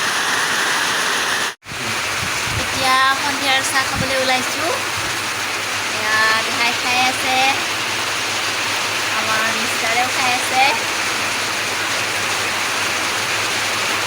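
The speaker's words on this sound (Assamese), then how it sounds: "বাহিৰত বহুত বৰষুণ দি আছে সেইকাৰণে হয়তো শব্দটো শুনাত অলপ দিগদাৰ হ'ব" Heavy rain falls outside in a dense, steady roar throughout, while people talk softly over it indoors.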